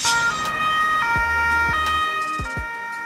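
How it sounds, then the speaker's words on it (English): A bus-type ambulance for carrying multiple patients sounds its siren in a loud, continuous wail up close, with a low engine note and a few passing swooshes underneath. "Ambulance bus, a bus-type ambulance used to transport multiple patients in emergency situations."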